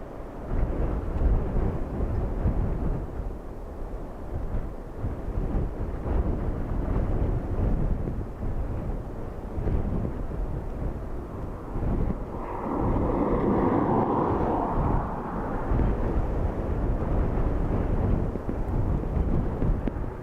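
A Ryanair airliner making a second landing attempt in strong storm winds at Dublin Airport: a continuous heavy jet roar buried in gusty wind rumble, swelling midway as the aircraft passes nearer, with no talk.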